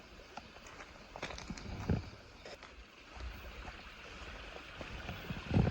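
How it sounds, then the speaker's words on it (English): Small trickling waterfall inside a tunnel, faint watery rushing with a few louder splashes and low rumbles echoing in the enclosed space. "There's a little trickling waterfall."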